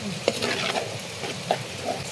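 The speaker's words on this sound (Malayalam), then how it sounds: "അരപ്പ് തിളക്കാൻ തുടങ്ങി അല്ലേ" Coconut curry paste coming to a boil in a pan, giving a soft, steady sizzle and bubbling with a few light clicks, close by and fairly quiet.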